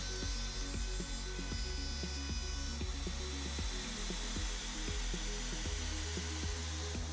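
A homemade CNC router mills a pan handle from MDF on a cleanup pass, giving a steady loud motor whine with repeating mechanical stepping sweeps and rising and falling drive tones in a regular rhythm.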